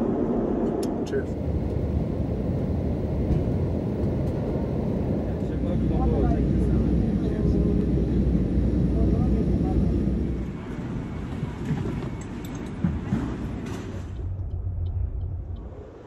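Steady, loud broadband roar of a Boeing 777 airliner cabin in flight, heard from a Club World seat on a flight from Manchester. The drone runs continuously throughout, with muffled voices faintly under it.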